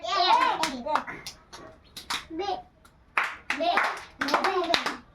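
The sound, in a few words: hand clapping for a counting game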